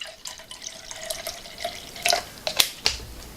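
Cold bottled water is poured into a drink made with apple cider vinegar and stevia, giving a light trickle, then a few brighter splashes and drips near the end, close and fairly quiet.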